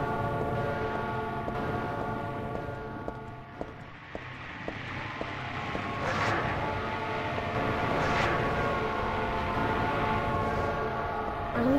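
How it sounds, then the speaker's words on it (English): Train pulling into a station platform in the survival horror game Silent Hill 3, a steady rumbling approach with rhythmic clicks and rising mechanical whine, building louder over the stretch with no voices. "immediately get back onto the platform because the train's gonna come"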